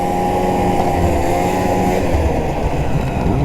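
A two-stroke snowmobile engine runs steadily on a night trail, a loud continuous drone with a buzzing tone that holds near and even throughout, with no talk.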